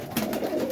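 A roller pigeon in a coop coos softly at close range, a short low murmuring call alone without voices.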